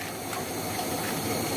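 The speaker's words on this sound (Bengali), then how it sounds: "আমি এখন এখানে চালটা দিয়ে দিচ্ছি, আস্তে আস্তে চালটা ঢেলে দিব।" Rice poured steadily into a pot of boiling water for beef kacchi biryani, a continuous soft watery rush and hiss with no gaps, fairly quiet and close.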